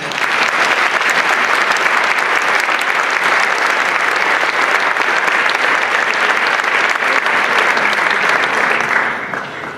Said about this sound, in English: I think we should give them all a big round of applause.